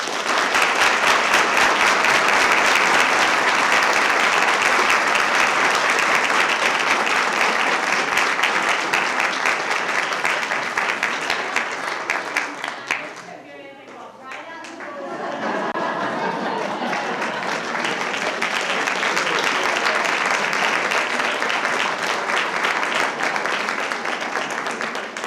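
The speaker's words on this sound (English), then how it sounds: "If we could give them all a round of applause." An audience at a school board meeting applauds with sustained, dense clapping that dips briefly midway, then swells again and carries on steadily to the end.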